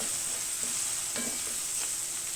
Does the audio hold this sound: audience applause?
no